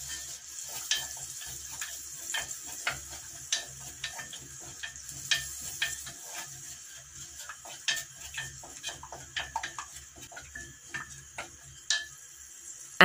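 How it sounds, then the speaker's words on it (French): A spoon stirring Algerian tajine sauce with garlic and red chili sauce, giving repeated light clinks and scrapes against the pot over a soft sizzle. Close and moderately loud, with no talking. "Et on remue un peu la sauce."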